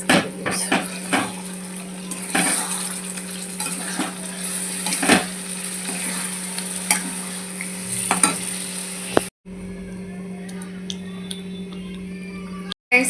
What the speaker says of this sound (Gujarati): પનીર સાંતળીને રાખી છે અને મરચાં, અચ્છા કેપ્સિકમ છે. મિક્સ કરી દઈશું.